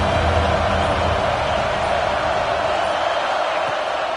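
A packed stadium crowd at an Ohio State versus Minnesota college football game roars in a steady, loud wash of cheering that fills the whole stretch without breaks.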